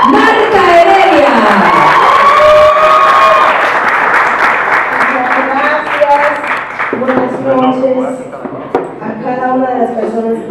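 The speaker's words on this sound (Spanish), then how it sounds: "Con ustedes, un aplauso, Marta Heredia." At a press conference, a crowd loudly cheers, whoops and shouts over clapping, with raised voices and calls rising at first and then a long run of sharp claps that continues as the cheering thins toward the end.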